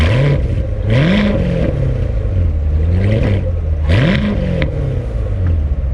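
A Chevrolet Corvette set to track mode revs repeatedly near the microphone, its engine note climbing and falling in several sharp, loud surges.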